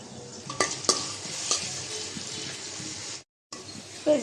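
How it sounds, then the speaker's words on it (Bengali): Chopped onion and garlic sizzle and crackle in hot oil in a pan, with a steady frying hiss, a few utensil clinks and a brief drop to silence before frying resumes. "তেল দিয়ে দিলাম, পেঁয়াজ কুচি, রসুন।"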